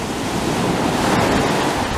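Surf breaks on a Florida beach in a steady, loud wash of rushing water with wind buffeting the microphone and no voices.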